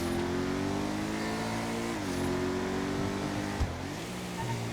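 An Übermacht Oracle V12 in GTA 5 drives at a steady engine drone, with the revs dipping and climbing again on gear changes. A brief thump cuts in near the end.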